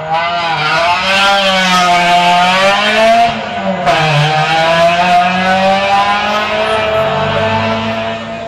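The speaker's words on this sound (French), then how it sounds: "Ce sont des moteurs atmosphériques bien gonflés, bien préparés" Loud, close naturally aspirated rally car engines scream at high revs, pitch sweeping up and down through gear changes as cars blast past continuously.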